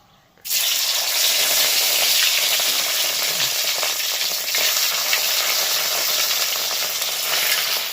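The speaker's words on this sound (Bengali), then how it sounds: "এবার পনিরগুলোকে হালকা করে ভেজে নেবো, একদম হালকা।" Paneer pieces drop into hot white oil in a wok and start frying with a sudden, loud sizzle. The steady crackling hiss holds evenly to the end with no talking.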